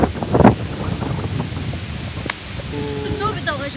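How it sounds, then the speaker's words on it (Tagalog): Gusty wind buffets the microphone with a rushing, rumbling roar, while a voice speaks briefly underneath. "Nani ka hangin."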